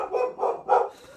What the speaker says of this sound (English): One of my dogs is barking.